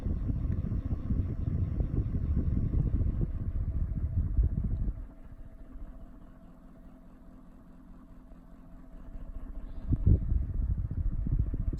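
A 17-inch Weiye (Skyri) USB mini ceiling fan runs with a steady low rattling hum from its poorly isolated mounting, loud at first, dropping quieter midway, then swelling again near the end.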